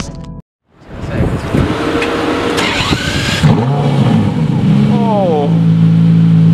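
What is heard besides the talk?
Aston Martin One-77 car engine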